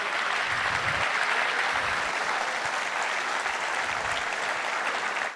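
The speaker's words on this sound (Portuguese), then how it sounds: "Vamos aplaudi-lo." A church congregation applauds steadily during a sermon, dense sustained clapping that holds at an even level throughout without pause.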